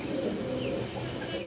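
Pigeons in a breeding pair cooing steadily at close range, soft low murmurs running without pause for the whole moment before cutting off abruptly.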